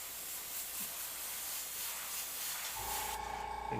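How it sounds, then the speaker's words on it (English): An airbrush hisses a steady fine spray of paint through a stencil pattern, close and soft, then shifts to a harsher, more forceful burst with a humming tone near the end. "when you spray it like directly at it and force the material down"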